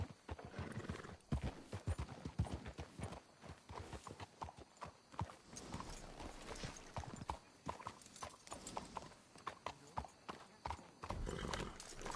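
Horse hooves clip-clop in a steady walking rhythm, close and clear, with a horse whinnying and snorting now and then, in the video game Red Dead Redemption 2.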